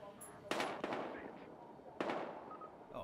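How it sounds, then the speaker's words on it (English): Gunfire in the Battlefield Hardline video game, with two sharp loud bursts that ring out and decay, the second about a second and a half after the first, over a low background murmur. "We've got gunshots."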